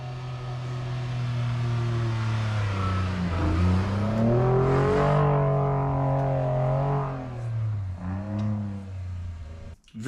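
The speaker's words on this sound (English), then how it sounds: "It's quite a quick truck, especially once you put it into sport mode." A Ford F-150 Tremor pickup with an EcoBoost engine in sport mode accelerates hard, its engine note climbing steadily through the gears with a clear rising drone, then easing off near the end; no talking over it.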